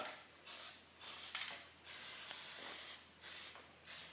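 Aerosol can of Plasti Dip spraying rubber coating onto car wheels and rims, loud hissing bursts of varying length repeating in a steady on-off rhythm, close up with no talking.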